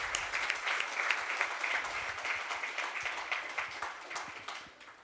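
Audience applause at a session in Yavatmal, a steady wash of many hands clapping at moderate distance that thins and fades toward the end.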